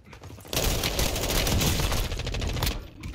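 Dense, rapid gunfire rattles in a Warzone 2.0 Resurgence match during an airstrike. A loud, continuous burst of shots lasts about two seconds and then fades out.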